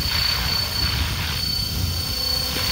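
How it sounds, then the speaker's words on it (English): A helicopter's main rotors and tail rotor make a steady, loud, broadband whooshing drone with a low rumbling throb and a thin high whine, continuous throughout with no voices. "Despite the tail rotor on this aircraft obviously producing a lot of counter thrust, it is less noisy"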